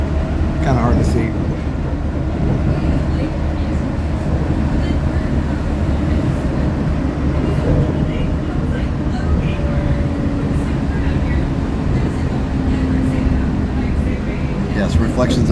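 A Walt Disney World Monorail train carries riders between Epcot and Magic Kingdom, giving a loud, continuous rumble and whir from on board with steady low-pitched motor noise, and people talk over it.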